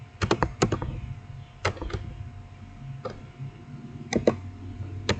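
Someone types on a computer keyboard, entering network switch commands, with sharp clustered keystrokes in uneven bursts separated by pauses, close and fairly quiet.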